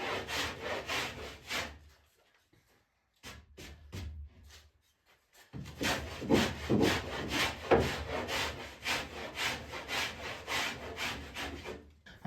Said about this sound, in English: that gives me a line to go to with my planing